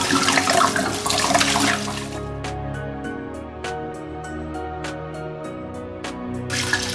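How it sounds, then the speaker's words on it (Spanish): Wine poured into a pan of browned, slow-cooked meat gives a steady, loud liquid splash and hiss for a couple of seconds, then settles into sizzling with faint bubbling ticks, followed by another surge of sound near the end. "incorporamos el vino"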